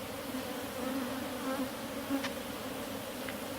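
African honeybees (Apis scutellata) swarm around an open hive, their dense, steady buzzing close and continuous throughout.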